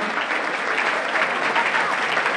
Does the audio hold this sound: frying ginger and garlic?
no